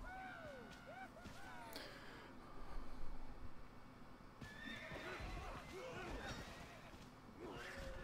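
A horse whinnies repeatedly in a strategy video game, shrill rising-and-falling neighs with hoof clip-clop and clatter between, fairly close and clear over game effects, no talk.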